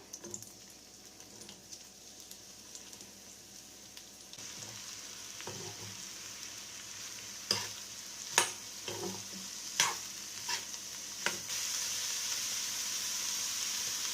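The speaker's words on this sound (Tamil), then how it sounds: "எண்ணெய் சூடானோனையும் வெங்காயம் கட் பண்ணி வச்சிருக்கதை சேர்த்துக்கலாம்." Chopped onions, five of them, sizzle in hot oil for a Tamil street-food murtaba, with a steady frying hiss and occasional sharp clicks and taps of a utensil stirring the pan.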